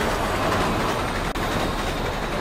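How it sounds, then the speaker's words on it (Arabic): A train approaching in the Resident Evil 6 video game, a steady loud rumbling roar with rail clatter that holds throughout without speech. "القطار جاي"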